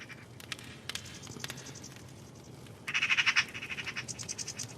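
Outdoor nature ambience of croaking frogs and chirping insects, with bird-like calls echoing in repeating delayed taps that trail off rhythmically.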